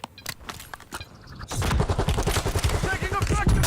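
Gunfire in the Call of Duty Warzone video game: a few scattered shots, then a loud rapid burst of automatic fire, close and sustained to the end.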